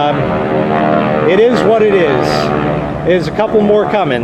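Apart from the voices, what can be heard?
propeller airplanes flying over for an air show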